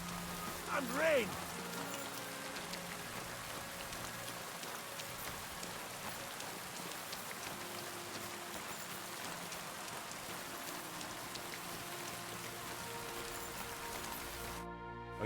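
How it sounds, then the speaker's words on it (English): Steady rainfall in Kingdom Come: Deliverance II keeps up an even hiss and patter throughout, with a short tonal game sound early on and a sharp cut at the very end. "And rain!"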